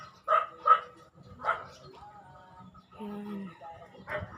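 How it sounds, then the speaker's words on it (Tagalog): A dog gives a few short barks near the recording, two quick ones followed by another, over a low background rumble with a person speaking. "Ayan yung aso guys"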